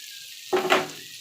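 Crumbled bread, vegetables and masala hitting a hot pan, bursting into a short loud sizzle after a quiet moment, then fading as the mixture is stirred.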